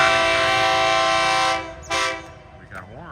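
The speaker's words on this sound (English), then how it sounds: "Here comes the train." Overnight Bangkok to Surat Thani passenger train arriving at Lamae station in Chumphon, Thailand, a loud sustained horn blast cutting off, then a second short toot and a falling whistle over the rumble of the approaching train.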